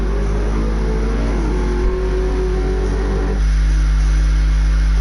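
Race car engine noise from the Gran Turismo video game plays loud and continuous, a steady drone with a shift in pitch partway through and no voices over it.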